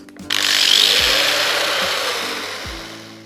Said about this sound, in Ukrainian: Кутова шліфувальна машина Vitals Master ALS 18125 Kit Smart Line Plus.